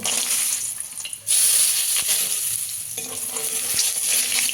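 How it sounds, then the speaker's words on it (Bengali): Soft homemade lentil dumplings (bori) fry in oil left over from frying fish, making a loud, continuous close sizzle with a bright hiss that briefly dips and then surges back. "এই মাছ ভাজা তেলের মধ্যে বড়িগুলো ভেজে নেব।"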